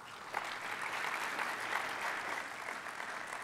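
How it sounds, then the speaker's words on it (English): An audience at a defense intelligence summit plenary gives steady, even applause, a dense wash of many hands clapping at moderate distance with no talk. "One more round of applause."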